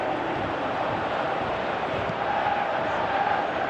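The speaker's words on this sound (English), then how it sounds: "Crowd appreciates good football all round." Stadium crowd noise at a football match in PES 2018, with OGC Nice playing: a steady, dense roar of many voices that stays even throughout, with a faint rise toward the end and no clear talk above it.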